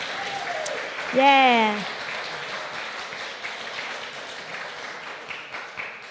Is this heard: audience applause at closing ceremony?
yes